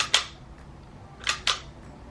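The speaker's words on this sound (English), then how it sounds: "On the side here is the shutter, and yes, it will sound like you didn't even take a picture." A Holga 120 toy camera's shutter fires in two quiet, sharp clicks, each a brief double snap, heard alone and up close.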